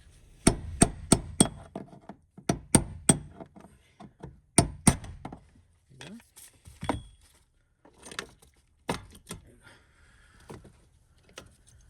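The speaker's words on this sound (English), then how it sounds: "I'm gonna use a chisel. And I'm gonna hit it right here." A hammer strikes a chisel in sharp, close, metallic clusters of blows against the fuel pump of a 2011 Ford Escape 3.0, followed by scattered clanks and knocks.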